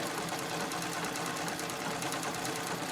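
A sewing machine stitches with heavy 40-weight cotton thread, running steadily and continuously up close with an even whirring drone and no pauses.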